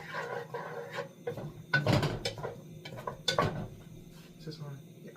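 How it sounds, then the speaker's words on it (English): A spoon scraping and clanking against a pot of chili while it is stirred, in short irregular bursts of metallic rattling up close, with quiet background sounds. "Stir this up."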